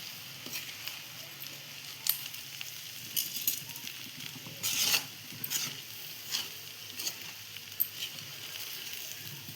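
Jackfruit biryani gently stirred in a pot, soft scraping and patting strokes of a spoon over a faint, steady sizzle, with a few louder stirs spaced across the stretch and light, quiet kitchen sounds.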